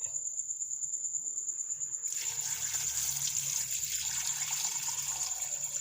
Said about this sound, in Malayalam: ആവശ്യത്തിന് വെള്ളം ഒഴിക്കാം.